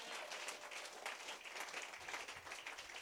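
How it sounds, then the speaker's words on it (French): A church congregation claps and applauds for the Lord during worship, a continuous, faint and distant patter of many hands with no talking over it. "Donnez une bonne main d'acclamation au Seigneur."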